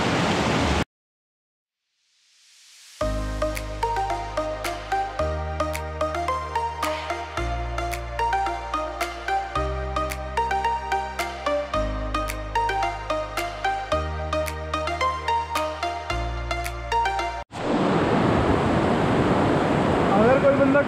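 Icy cold spring water rushing near Kasol in Himachal Pradesh makes a loud, steady roar briefly at the start and again at the end, with music filling the middle.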